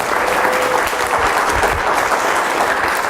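Loud, dense audience applause during a technology talk in Singapore, a steady roar of many hands clapping close by throughout.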